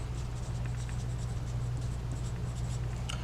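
Steady scratching strokes of writing on a chart during an algebra lesson, close and fairly quiet over a constant low electrical hum, with no one speaking.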